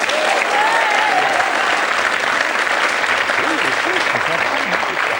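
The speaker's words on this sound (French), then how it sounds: "je vous demanderai de bien vouloir vous fendre d'une salve d'applaudissements supplémentaires en l'honneur de nos 2 hôtes" Sustained applause from a studio audience at a French television talk show fills the clip, dense and steady, with a voice speaking over it.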